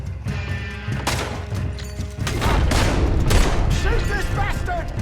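Gunfire in the Western video game Red Dead Redemption 2 rings out in rough bursts and volleys over a dense game soundscape, with voices mixed in.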